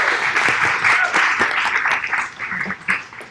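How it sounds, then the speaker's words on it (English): Audience at an MLUX SF data science ethics panel held at IDEO in San Francisco bursts into applause, a loud, dense burst of many hands that thins out toward the end. "can we give a round of applause, IDEO?"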